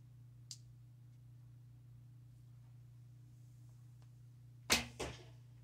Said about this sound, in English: See what this hand chucks like.